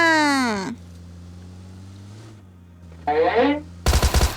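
Gunfire in the mobile game PUBG Mobile comes as a short rapid burst of loud shots at the very end, following stretches of voices talking.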